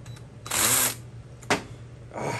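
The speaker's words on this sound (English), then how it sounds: "Ah, this drill." A keyless-chuck power drill whirs in short bursts, a sustained spin followed by a quick blip and another brief run, close to the microphone, while working on a Honda Z50 carburetor.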